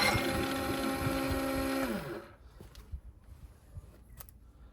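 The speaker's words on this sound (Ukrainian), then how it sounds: "Схватує, але щось на газу чи то через температуру не хоче одразу запускати." An EcoFlow dual fuel generator running on gas catches briefly with a loud, steady engine drone that lasts about two seconds, then winds down and dies out, leaving faint clatter and rustling behind.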